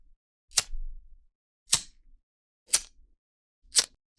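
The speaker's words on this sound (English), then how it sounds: "It's a lighter for sparklers, candles, or lighting up the grill." Four sharp, evenly spaced clicks from a lighter used for sparklers, candles or the grill, each a crisp close snap in an otherwise quiet setting.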